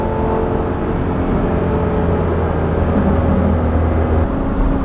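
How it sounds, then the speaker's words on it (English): A 2006 Lamborghini Gallardo with a six-speed manual gearbox, its engine droning steadily and loudly from inside the car as the throttle opens, with no talking. "You can actually hear the throttle opening up."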